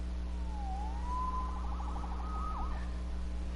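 A police siren in the Spider-Man PS4 video game wails in a rising and falling pitch sweep, steady and moderately loud over a constant low hum, without talk.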